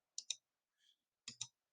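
Computer mouse clicking while fixing a word's spelling, two quick pairs of sharp close clicks separated by a short pause, faint and alone.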